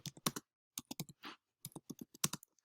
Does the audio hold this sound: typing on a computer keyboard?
yes